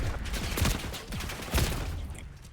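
Rapid gunfire from the video game Call of Duty Black Ops 6, with two dense bursts of shots around strafing movement, loud and close, with no talking.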